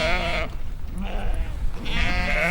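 A sheep, injured from a fall with a broken leg, bleats twice in loud harmonic calls at the start and end, with a quieter stretch of rustling and faint murmuring between, outdoors on a mountain trek with Kazak herders in Xinjiang.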